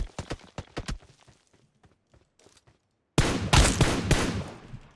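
Gunfire in a shooting video game bursts out as rapid volleys of sharp shots, first a quick run of separate cracks, then a dense, loud stretch of continuous automatic fire after a brief pause.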